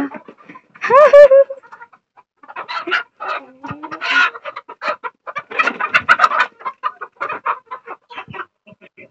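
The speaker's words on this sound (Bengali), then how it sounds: "এইটুকুনি একটা মুরগি" A small chicken clucks close by in a rapid, uneven run of short calls, opening with a louder drawn-out squawk.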